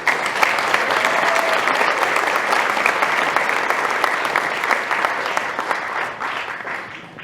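Audience applause at a community services organization's event, a dense, loud, sustained clapping from a large crowd that carries on for several seconds before tapering slightly at the end.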